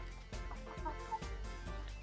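Chickens clucking nearby in a rural setting, short repeated clucks and calls in a quick irregular rhythm over a steady low background hum.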